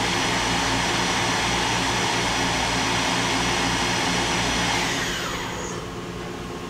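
A Mori NLX2500SY CNC lathe spindle spins at 3,500 RPM with a loud, steady, close whir and a broad hiss, then begins to wind down and soften toward the end.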